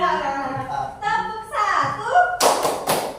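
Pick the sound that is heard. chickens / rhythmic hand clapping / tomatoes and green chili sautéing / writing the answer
rhythmic hand clapping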